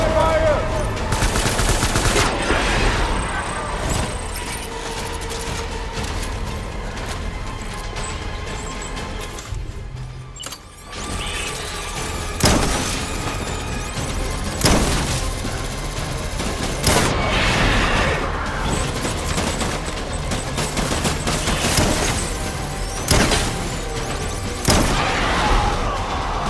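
Rapid gunfire and bursts of automatic fire ring out in a Death Stranding combat encounter, with booms and crashes scattered through the long, loud stretch and a brief lull partway before the shooting resumes.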